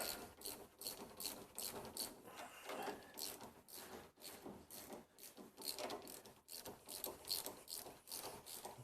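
Ratchet spinning a new nut onto a rear shock absorber mount on a Mercedes fitted with Bilstein B4 shocks, a rapid clicking pawl run in repeated bursts, close and steady with brief pauses, no talking.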